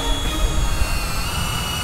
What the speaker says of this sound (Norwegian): De 4 jetturbinene yter hele 40 hestekrefter